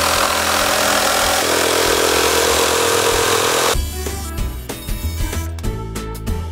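A power saw cuts through a wooden board while an old chair is upcycled into a mini herb garden, its loud, steady whine running for nearly four seconds before stopping, followed by a few clunks and knocks.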